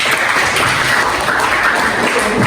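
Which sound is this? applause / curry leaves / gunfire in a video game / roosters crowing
applause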